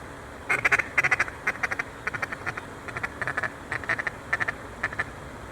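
Ducks quack in quick repeated bursts at a hunting dog training ground, the calls coming in short clustered runs at moderate distance, with no voices.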